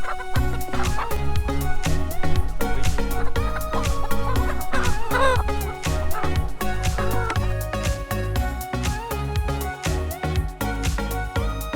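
Chickens on a farm clucking loudly and continuously while being handled one by one for weighing and visual checks, many birds close by over a busy, rhythmic background.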